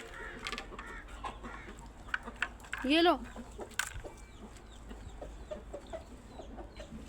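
Chickens cluck and squawk nearby, with one louder drawn-out call in the middle, while someone speaks briefly and quietly.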